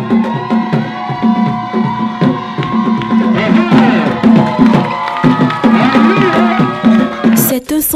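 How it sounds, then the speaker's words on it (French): A crowd cheering and clapping loudly at an event honouring an African arts figure, a dense, lively roar with shouts and whistles layered over continuous applause throughout. "On applaudit très fort, on acclame."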